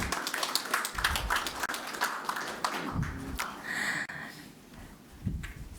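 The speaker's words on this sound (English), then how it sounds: "Everybody, a round of applause." Audience applause at the Singapore Cup draw 2019, a steady patter of clapping from a crowd indoors, moderately loud, lasting the whole stretch with a brief swell near the end.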